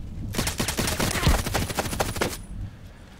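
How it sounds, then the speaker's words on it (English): Rapid bursts of gunfire from an online shooter, Contract Wars, fired with an unsilenced rifle fitted with an EOTech 553 sight, a dense rattling volley for about two seconds and then stopping, loud and close with no talk over it. "I'm shooting again and again"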